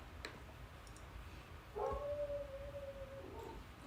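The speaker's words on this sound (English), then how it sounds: "Dog barking." A dog gives a short distant bark and then a drawn-out howling whine, faint against quiet background noise.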